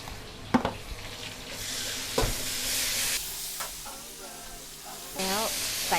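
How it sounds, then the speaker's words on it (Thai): Shrimp and bamboo shoots with fresh chili stir-fry in a hot pan, giving a loud hissing sizzle with spatula scrapes and clanks. Faint tonal squeaks surface near the end, and there is no clear talk. "ฝั่งนี้จะผัดกุ้งหน่อไม้สักนิดนึงด้วยพริกสดนะคะ"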